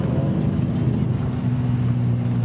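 A Mercedes-AMG engine hums with a steady low purr from inside the moving car, a constant deep drone without revving.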